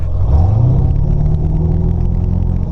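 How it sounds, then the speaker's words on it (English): Ford Powerstroke diesel truck engine fitted with a tuner, revved once: a loud, close rumble climbs quickly in pitch and then holds a steady elevated drone for the rest of the short clip. "Start with the RPM range. Show you guys how it revs up."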